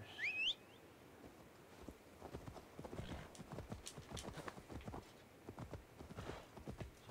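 Horse hooves clip-clopping in Assassin's Creed Valhalla, a steady trotting rhythm of close, crisp hoof strikes with a brief whinny at the start.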